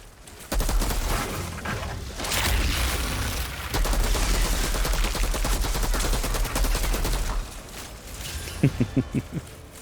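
A sustained barrage of rapid automatic gunfire and heavy impacts fills an Outriders shooter game battle. It is loud and dense for several seconds, then drops away to a few sharp closing shots.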